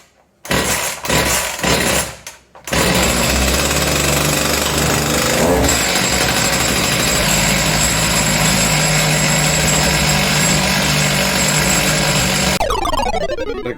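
A Husqvarna 245R brush cutter with a fault that makes it stall when hot sputters in a few short bursts, then its two-stroke engine runs loud and steady at high revs for about eleven seconds, close to the microphone.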